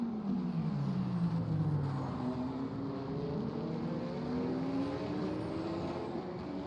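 A pair of Corvette GT3 race cars dueling on the Sebring circuit, engines roaring continuously with rising and falling pitch as they shift gears through a wet section, loud and sustained.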